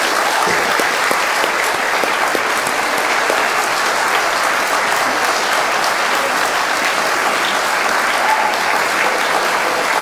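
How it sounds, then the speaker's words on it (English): A large audience at the Oxford Union gives sustained, loud applause, a thick, even wash of clapping that holds steady for about ten seconds with no voices rising above it. "All right, we're going to time this applause."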